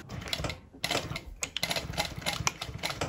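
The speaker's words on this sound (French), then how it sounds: "Et je vais surpiquer, encore une fois, en commençant et en m'arrêtant au niveau de mon bord de propreté et de ma fermeture éclair." A sewing machine topstitches a small zip-up card holder along its facing edge and zipper, running in a steady close mechanical patter of quick stitches with one brief pause near the start.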